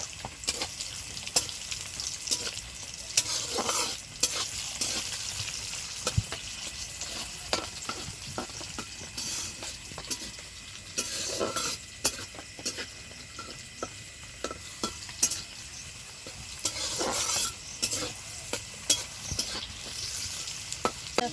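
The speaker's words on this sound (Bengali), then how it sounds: "এবারে সবগুলোকে একটু ভেজে নেব" Cashews, raisins and whole garam masala sizzle steadily in a pan, with close, irregular clinks and scrapes from a stirring spoon breaking through the continuous frying hiss.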